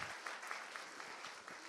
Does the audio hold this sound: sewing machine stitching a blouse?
no